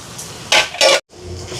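Mashed potato and boneless fish being stirred together in a bowl for Sri Lankan fish balls, giving two short bursts of wet scraping and clinking, then a brief silence and a quiet tail of faint handling.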